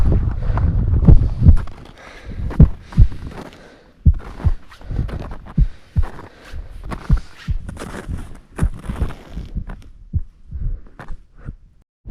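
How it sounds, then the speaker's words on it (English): During a solo climb of Mont Blanc, close, muffled thumps of a beating heart pulse irregularly, mixed with heavy rushing breaths and rustling, loud and intimate with no speech. "All I could hear was my beating heart, the sound of my own breath."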